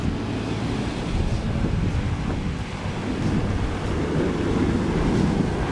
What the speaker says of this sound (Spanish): Ahí como hay un hoyo. Ahí. Un hoyo soplador.